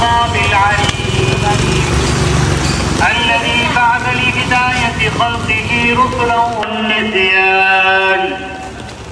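Friday rain falling in Kayalpatnam, a constant hiss of rainfall on surfaces heard beneath loud music with a melodic voice throughout.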